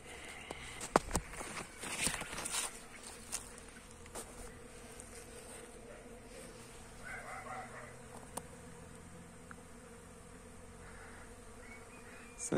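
A steady low hum of honeybees working flowering hazel bushes in early March, broad and continuous in calm outdoor air, with a few nearby footsteps and faint rustles and a distant rooster.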